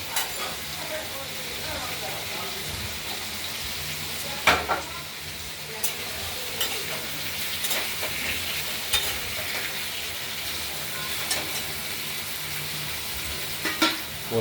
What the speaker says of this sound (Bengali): আলুগুলো প্রথমে একটু ভাজা ভাজা করে নেব।